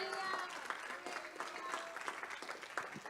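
Congregation applauding inside a church during a Spanish-language sermon on baptism in the Holy Spirit, a dense, steady wash of many hands clapping for about three seconds with a few voices mixed in.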